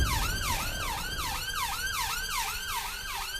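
An ambulance siren wails, repeatedly rising and falling in a quick, regular cycle, moderately loud and steady, with faint road rumble beneath, in the UK.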